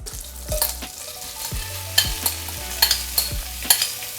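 Shrimp and garlic fry in hot red oil with a bright, crackling sizzle, while repeated metallic clanks and scrapes of a spatula stirring the pan ring out close by, with no talking.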